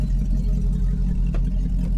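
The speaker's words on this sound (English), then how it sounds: "Car's so damn loud." A loud Chrysler 300 with a Scat Pack engine swap running steadily, a deep throbbing rumble that stays constant and close throughout, with no voices.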